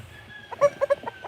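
Chickens cluck in a few short, sharp bursts nearby, with quiet background noise from an outdoor spot where potting mix is being prepared.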